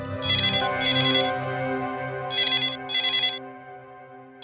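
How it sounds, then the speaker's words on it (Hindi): A telephone rings with a shrill electronic ringtone in two paired bursts, a pause, then two more, loud and close with a steady hum underneath. "शायद किडनैपर का फोन होगा।"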